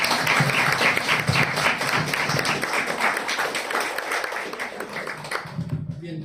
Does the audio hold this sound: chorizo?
no